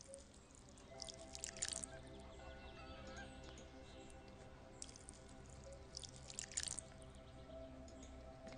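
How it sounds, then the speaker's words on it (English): Crops being watered in the farming game The Stillness of the Wind: a steady bed of pattering, splashy water sounds with two brighter bursts of spray, over quiet ambient tones and faint farm-animal calls. "Should be able to water all of this."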